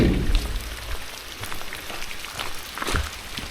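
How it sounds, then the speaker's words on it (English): Strong rain falling outdoors on a chilly day, heard as a dense, continuous patter of drops striking a surface nearby, with a few heavier splashes and gusts swelling in and out. "the rain was so strong. The sound of the rain so strong."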